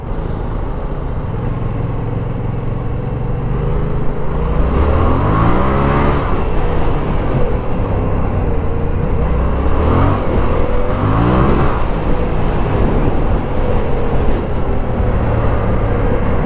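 A motorcycle engine held at a steady loud drone, rising in several sweeping revs as the rear tyre spins, close by, with no talking over it.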